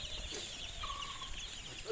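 Broiler chicks on their first day, faint, busy cheeping and chirping from a group of young birds, soft and continuous with light background noise.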